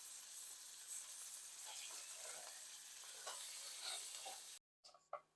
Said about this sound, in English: I'm gonna toss these up in this butter